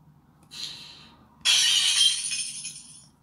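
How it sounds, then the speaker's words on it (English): A hammer breaks a glass mirror: two sharp crashes, a lighter one first, then a loud shattering burst with fragments tinkling and rattling as it fades. "I'm going to break the glass mirror with this hammer"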